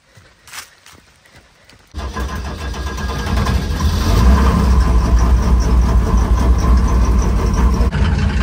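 After a few faint clicks and knocks, the shop truck's open engine, nicknamed the mouse trap, fires up abruptly and settles into a loud, steady running rumble that continues to the end.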